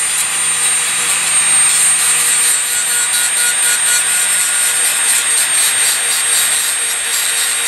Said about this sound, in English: I just grind this side nice and flat here